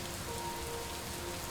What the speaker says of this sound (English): Then rain.